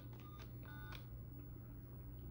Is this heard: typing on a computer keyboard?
no